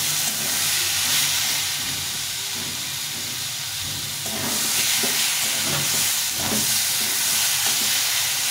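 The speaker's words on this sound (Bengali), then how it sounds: "ডালটা একটু ভালো করে ভেজে নিতে হবে।" Masoor dal with slit green chillies fries in a pan as a loud, continuous hiss, with faint stirring knocks showing through in the second half.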